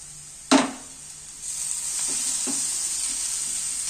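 Chopped tomatoes dropped into a hot frying pan of fried ingredients for an egg snack, a sharp clatter followed by a steady loud sizzle and a couple of spatula scrapes as they are stirred.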